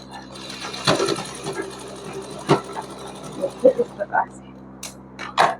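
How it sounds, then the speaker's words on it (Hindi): A sewing machine stitches a small dhoti dress for a Laddu Gopal idol in short runs of whirring, broken up by handling clicks and someone talking over it. "उतना छोड़ते हुए यहाँ पर हम सिलाई लगा देंगे"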